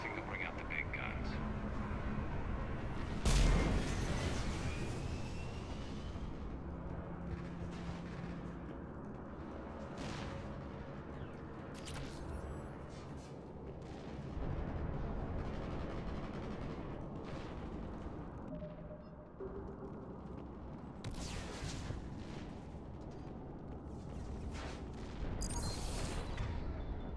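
Sustained turret gunfire and explosions in the Mass Effect 3 video game, with a heavy boom near the start and repeated bursts of fire through the fight as voices speak over the combat.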